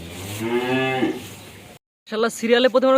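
Holstein heifer calves and cattle on a dairy farm give a long, loud moo, then after a short silence a second, rougher bellow follows close to the microphone.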